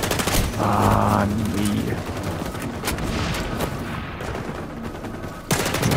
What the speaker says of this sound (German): Ich habe gerade versucht, die Pistole zu spielen.